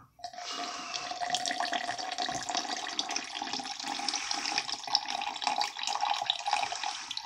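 Unlabeled water pours steadily from a container into a U.S. MRE chili with beans pouch, a continuous close splashing and trickling stream that runs for several seconds with no talk.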